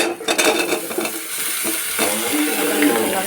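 Ingredients sizzle loudly in hot oil in a kadai-style wok on a stove, with a steady frying hiss and occasional clinks and scrapes of stirring.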